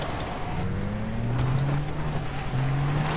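A vehicle in Far Cry 3 speeds up with a steady engine drone that rises in pitch, dips and climbs again, close and continuous, with no talk.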